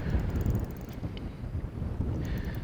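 Strong gusts buffet the microphone on a boat out fishing for walleye, a loud, continuous low rumble with uneven surges and no voices.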